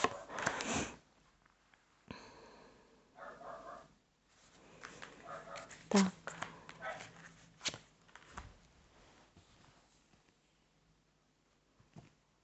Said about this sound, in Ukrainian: Собака дуже галаслива.